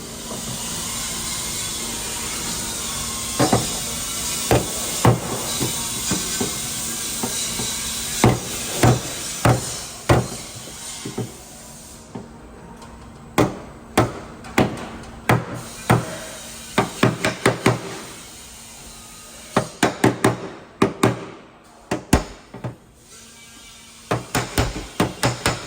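A hammer and dolly work a dent out of a BMW X3 quarter panel, sharp metallic taps landing in irregular bursts and quickening clusters over a quiet workshop background.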